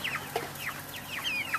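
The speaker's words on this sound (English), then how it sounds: "Those are our white chickens." White chickens cluck in a quick run of sharp, close, fairly loud calls, with no talking over them.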